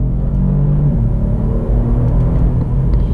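A twin-turbo Kia Stinger GT accelerating hard under launch control, heard as a loud, close, continuous engine rumble and roar that holds steady without a break.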